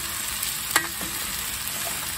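Potatoes for homemade corned beef hash fry in oil in a pan, sizzling steadily while a flat-bottomed Cajun spoon scrapes and stirs them, with one sharper scrape near the start.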